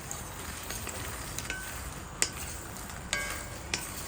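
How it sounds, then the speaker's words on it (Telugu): Makhana, or fox nuts, roast in a pan over a low flame with a soft, steady sizzle, broken by a few sharp clicks and taps as they are stirred. "కొన్ని మకానా తీసుకొని సిమ్లో పెట్టి వేయించుకోవాలి"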